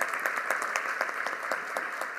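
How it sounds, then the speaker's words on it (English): An audience at a Philadelphia school district event applauds a union leader, with a moderately loud crowd clapping that has distinct individual hand claps pulsing at a roughly regular rhythm throughout. "I want us to applaud each one of them."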